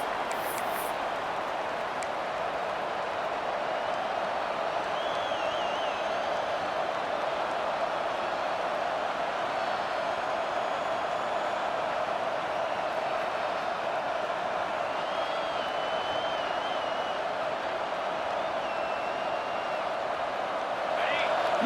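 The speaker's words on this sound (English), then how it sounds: "Listen to the crowd energy here in the early going." A stadium crowd roars at a college football video game, a steady, dense wash of cheering that stays level for the whole stretch, with a brief swell at the very end.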